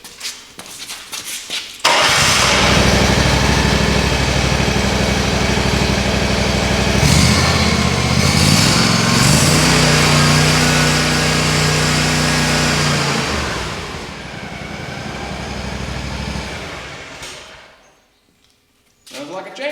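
An Exmark lawn mower engine cranks briefly, catches and starts, then runs loud and steady close by for about fifteen seconds before dropping away and cutting off.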